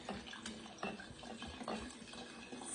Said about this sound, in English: So I pour 1 whole bottle